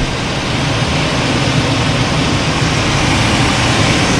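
A truck engine runs loud and close, a dense, steady low roar of revving with no clear rise or fall and no voices.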